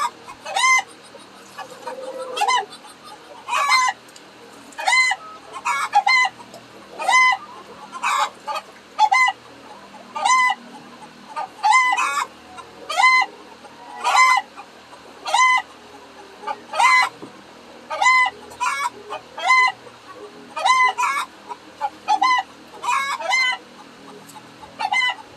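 Chickens on a farm cluck in a steady, repeating chorus of sharp calls, loud and close, with bursts coming every second or so and crowing-like cries mixed in, and no talking over them.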